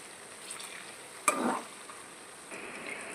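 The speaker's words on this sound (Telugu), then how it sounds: "ఇలాంటి గరిటతోనే తిప్పుకోవాలండి, లేకపోతే ముక్క" A ladle stirs bitter gourd pieces frying in a pan, giving a short scraping clatter over a steady low sizzle, then the frying hiss continues, close and moderately quiet, with no talking.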